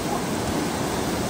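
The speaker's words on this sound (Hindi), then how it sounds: "ऊपर से झरना आ रहा है" A waterfall pours down during an off-road drive, a loud, constant broadband rush of falling water filling the short stretch without a break.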